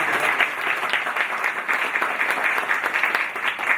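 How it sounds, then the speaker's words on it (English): Audience applause at a Coders4Africa talk, a steady dense wash of many hands clapping that holds at even loudness from start to end, with no voices on top. "So definitely give Amadou a round of applause."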